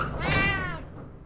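A cat in the survival video game 60 Seconds gives a single drawn-out, close meow lasting about a second.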